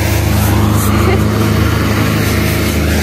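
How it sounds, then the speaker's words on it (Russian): A tractor engine drones past in snowy countryside, a loud steady motor hum with a low rumbling tone that holds through the whole stretch, with no clear voices. "Там, кстати, трактор едет."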